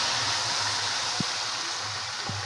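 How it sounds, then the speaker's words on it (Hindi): Water running and splashing steadily into a cooking pan for zeera rice, along with whole spices like cinnamon, black pepper, cardamom and red chilli, a continuous gushing wash with a couple of faint clinks. "ठीक है, पानी मैंने डाल दिया"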